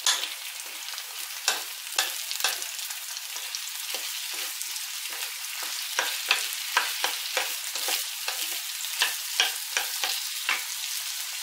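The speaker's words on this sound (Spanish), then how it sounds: "Y ahora vamos a refreírlo bien todo junto" Leek, onion and chopped ingredients frying together in a pan, a steady soft sizzle punctuated by regular scraping stirs of a utensil, close and even.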